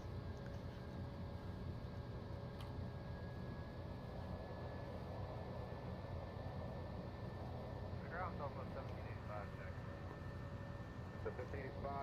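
A TBM900 turboprop engine roars in the X-Plane 11 simulator during its takeoff roll, a loud, steady drone with a constant high whine that holds for the whole stretch, with faint voices underneath.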